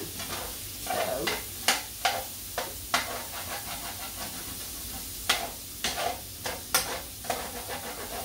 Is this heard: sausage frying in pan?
yes